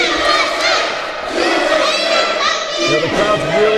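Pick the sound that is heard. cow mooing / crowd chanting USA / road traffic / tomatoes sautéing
crowd chanting USA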